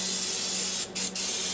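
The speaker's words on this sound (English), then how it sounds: "It's Food Network pump-up sprayer, and it's full of olive oil. And I spray them down with it now." Food Network pump-up sprayer misting olive oil onto chicken drumsticks in a steady hissing spray, close and loud, broken by two brief pauses.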